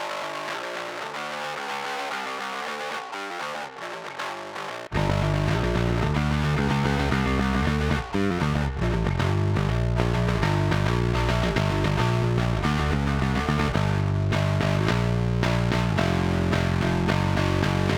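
A bass guitar plays a riff with a clean tone, then a thick fuzzy distortion from a fuzz pedal is blended in and the sound becomes fuller and louder, with no talking.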